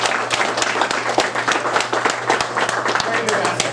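A crowd applauds tornado volunteers at a recognition event with a state representative, loud continuous clapping with sharp individual claps standing out and a steady low hum underneath.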